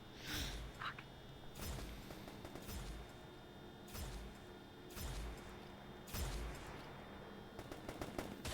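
Gunfire in a combat video game: several bursts of shots at roughly one-second intervals, fairly quiet, with low booms and a mechanical background hum between volleys.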